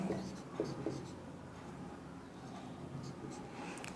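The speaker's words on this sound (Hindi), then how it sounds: "यदि यहाँ पे मैं कोई संख्या लिखता हूं" Marker or chalk scratching out a number on a classroom board, a few short strokes near the start over a steady room hum, with no talk.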